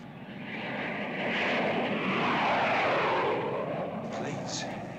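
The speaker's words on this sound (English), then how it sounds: "Planes. How low they're flying." Low-flying propeller planes roar overhead, a broad engine drone that swells to a peak mid-pass and then slowly fades, loud and steady with no clear voices.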